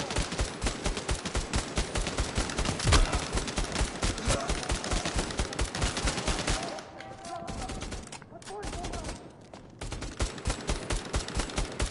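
Dense, rapid gunfire and bursts of automatic fire from the PSVR co-op shooter Bravo Team, loud and nearly continuous with brief lulls, while a voice talks over the battle.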